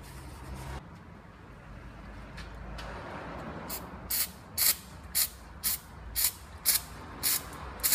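Aerosol cleaner sprayed onto the wire of a mass air flow sensor on a Nissan 240SX: a run of short, sharp hissing bursts in fairly even rhythm, close and loud, following a quieter stretch of low rumble.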